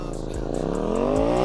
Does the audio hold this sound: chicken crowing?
no